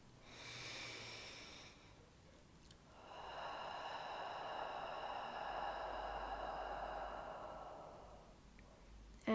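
Slow, drawn-out exhale during a calming breathing exercise, a soft airy rush that swells and holds for several seconds after a shorter breath, quiet and close with no speech.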